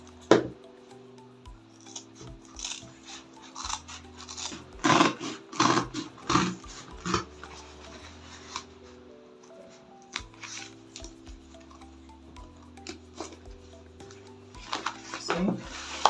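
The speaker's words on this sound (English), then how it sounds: "I'm going to cut this line off." Scissors snip through Ankara fabric along a marked line, giving crisp, irregular cutting clicks close up over faint tonal background music.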